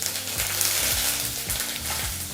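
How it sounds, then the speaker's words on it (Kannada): Urad dal, broken dried red chilies and curry leaves fry in hot oil, a steady close sizzle with rhythmic stirring scrapes across the pan. "ಈಗ ಈ ಪದಾರ್ಥನ ಒಂದು ಮೂವತ್ತು ಸೆಕೆಂಡು ಫ್ರೈ ಮಾಡ್ಕೋಬೇಕು"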